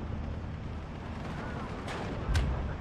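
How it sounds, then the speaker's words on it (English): Artillery rumbles across a World War II battlefield in Steel Division 2, with a continuous low roar of combat and two sharp blasts landing close together near the end. "that Panzerschreck gets deleted, absolutely evaporated by that artillery"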